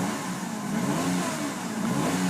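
A 2012 Honda N-Box Custom revs its small engine in neutral. The engine note climbs and falls in a steady, fairly loud rise, close by, with no talking over it.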